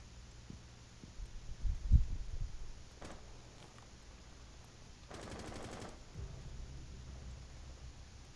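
Gunfire in a Rainbow Six Siege team deathmatch on the Kafe Dostoyevsky map, heard as a faint distant burst of rapid shots after a couple of muffled thumps, low in level beneath a quiet game background with no voices.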